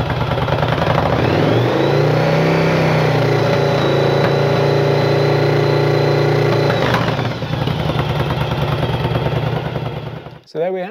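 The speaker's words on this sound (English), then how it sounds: "We're going to increase the revs" A motorcycle engine revs up and holds at a high, steady whine close by, then drops back down and cuts off.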